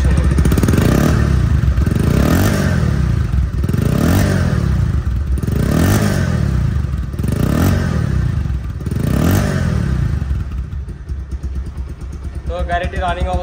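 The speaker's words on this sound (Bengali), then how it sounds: "তো গাড়িটি রানিং অবস্থায় আছে, সাউন্ড শুনুন।" A second-hand 2023 Bajaj Pulsar ABS motorcycle engine runs with a rhythmic revving pattern, five rising and falling swells close up, then settles to a quieter idle.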